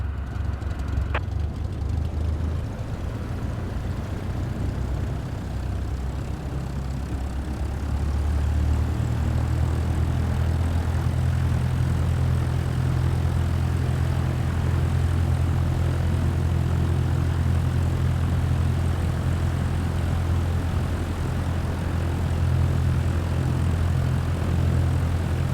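A propeller aircraft engine rumbles steadily while taxiing in Microsoft Flight Simulator 2024, a deep droning hum that swells slightly as throttle increases, then holds constant and close with no talk.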